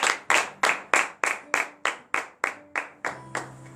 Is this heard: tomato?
no